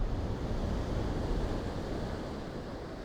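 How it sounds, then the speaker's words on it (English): Atlantic Ocean surf surging against the shore, a steady, dense roar of breaking waves up close, with wind buffeting the microphone throughout and no voices. "It's quite a surf, bit of a surge coming in."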